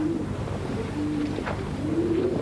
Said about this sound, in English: Here are some of the famous Van Leeuwen pigeons that you own.